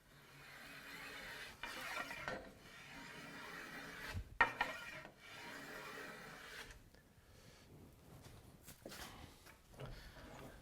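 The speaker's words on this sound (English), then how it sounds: "you've got your block plane set. Basically, I'm just making like, taking maybe 1/8 of an inch off each side." A block plane shaves along the edge of a maple board being shaped into a primitive longbow, giving quiet rasping strokes in several passes with short pauses between them.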